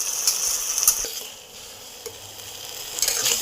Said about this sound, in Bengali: এবার এর মধ্যে আমি মাছগুলো দিয়ে দেবো।